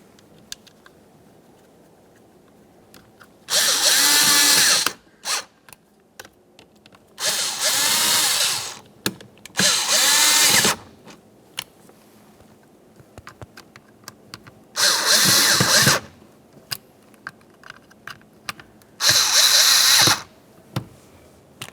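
A power drill drives mounting screws into a 2006-2011 Honda Civic window switch trim panel, whirring loud and close in five short bursts of about one to two seconds, separated by quiet gaps.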